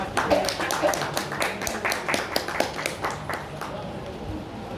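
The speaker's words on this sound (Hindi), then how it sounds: "ताली बजाकर" Audience clapping rises at a Guru Purnima ceremony as an honorary title is conferred, a scattered but steady patter of hands with voices mixed in, fading slightly toward the end.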